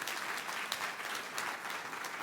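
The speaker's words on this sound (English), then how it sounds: "so let's clap for them too" Conference audience at a software robotics event claps for sponsors, a steady, continuous patter of applause heard faintly and from a distance.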